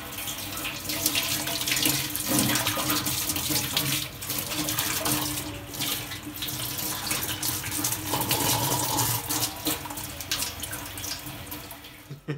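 Running tap water rinsing a BrewTools B80pro brewing system after brewing a London porter, a continuous loud splashing flow with slight shifts as equipment moves under the stream.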